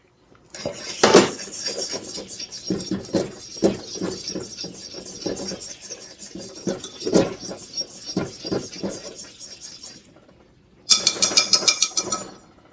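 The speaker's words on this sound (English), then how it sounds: "Let me stir this up." A spoon stirs banana meringue pudding mixture in a bowl, a steady run of close scraping and clinking taps that pauses briefly and then resumes.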